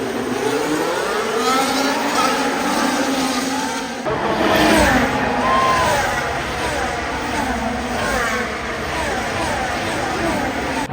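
Formula 1 cars launch off the starting line in a crowded grid atmosphere, a dense roaring wash of engines sweeping past with rising and falling pitch, loud and sustained, with crowd noise mixed in.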